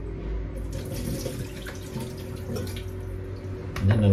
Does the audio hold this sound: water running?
yes